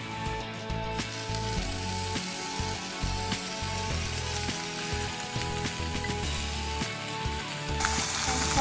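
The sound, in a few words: frying chopped garlic and mushroom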